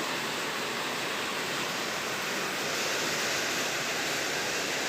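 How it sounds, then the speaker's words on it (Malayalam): Steady dense rain patters on a sheet roof and surrounding leaves, a continuous even hiss with no breaks and no voices. "ഷീറ്റിൻ്റെ മുകളിലും അവിടെ ഇവിടെയൊക്കെ ചെറുപ്പുറന്ന് പെയ്യുന്ന മഴയുടെ ശബ്ദം കേൾക്കാൻ നല്ല രസമാണ്"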